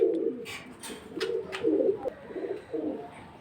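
Nila Kamagar high-flying pigeons coo in repeated throaty, rolling phrases, close and clear, with short pauses between calls.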